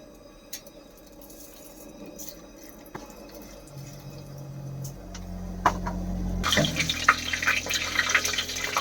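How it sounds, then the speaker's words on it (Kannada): Mustard seeds dropped into heated cooking oil begin sizzling after a quiet stretch, building into a dense, crackling hiss that grows louder and fills the last few seconds close up. "ಎಣ್ಣೆ ಕಾದಿದೆ ಸ್ವಲ್ಪ ಸಾಸಿವೆ ಹಾಕಿ"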